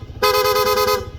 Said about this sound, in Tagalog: Switch, PIA horn, long press, magra-rapid.